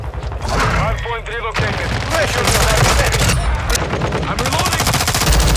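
Multiplayer gunfire in the video game Call of Duty: Modern Warfare II: loud, rapid bursts of shots and thuds go on almost nonstop, and an excited voice talks over them.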